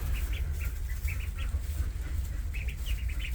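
Three-week-old Khaki Campbell ducklings inside a coop give soft, scattered peeping calls over a steady low background hum.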